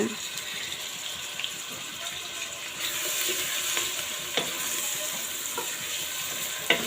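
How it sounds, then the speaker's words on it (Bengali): Spice paste for a Bangladeshi-style chicken curry frying until brown in a pan, with a steady close sizzle and occasional stirring scrapes, no voices. "পেস্টটা আমার খুব সুন্দর করে ব্রাউন কালার করে ভেজে নিব"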